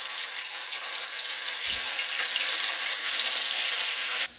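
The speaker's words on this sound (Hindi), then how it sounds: "तेल गर्म हो चुका है अब हमारा, हम इसके अंदर इन पीसों को छोड़ेंगे" Pieces of chaap frying in hot oil, a steady, close, bright sizzle that holds evenly throughout and stops abruptly near the end, with no talking.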